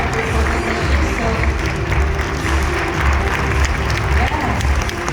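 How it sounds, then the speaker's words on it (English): Audience applause at an IFLA world landscape architects congress award ceremony, a dense continuous roar of clapping from a large crowd, loud and steady throughout with faint crowd murmur underneath. "please give them with a big round of applause"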